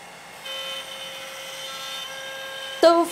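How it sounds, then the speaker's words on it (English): A CNC machine runs in a woodworking shop with a steady, close whining hum that rises slightly in level after a moment, then ends in a short, louder clatter. "we have a CNC machine"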